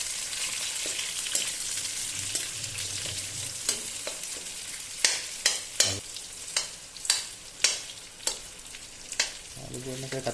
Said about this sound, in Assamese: ইয়াত এতিয়া মই দি দিম আলুখিনি।